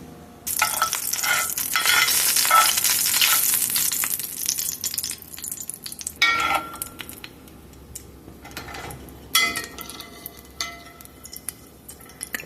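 Sesame seeds toasting in a pan for homemade sesame oil, with a loud steady sizzle and stirring scrapes for several seconds, then quieter intermittent stirring and rustles.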